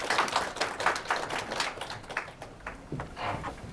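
An audience at a city council policy forum on essential healthcare gives a presenter a round of applause, with steady, dense clapping from many hands in a hall, loud at first and then easing off.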